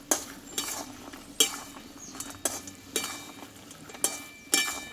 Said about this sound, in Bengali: এবার আমি নিমকিগুলোকে ঢেলে দেবো এই সেরার সঙ্গে ভালোভাবে মাখিয়ে নেবো